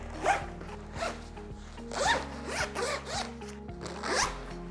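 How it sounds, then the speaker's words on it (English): Zippers on a lululemon 30L gym duffel bag opened and closed, several quick close-up zipping strokes in an irregular rhythm, fairly quiet with no talk. "when it comes to the zippers on this bag, they are all solid in my experience"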